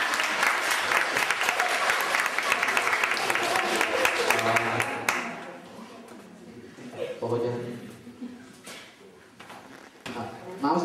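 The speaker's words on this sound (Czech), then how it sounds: "Zatleskáme." An indoor audience at an Advent afternoon show in Pošná breaks into loud, dense applause for about five seconds, then it fades into quieter room noise with scattered claps and faint voices.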